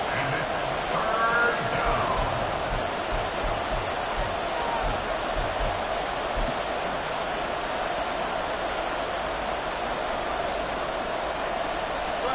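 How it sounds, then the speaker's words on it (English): Buffalo football stadium crowd roaring steadily in the fourth quarter of a close game, a loud continuous wash of noise with no clear breaks. "This Buffalo crowd letting them have it."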